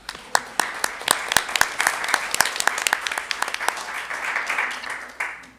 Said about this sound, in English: Round of applause for Ms. Kwan.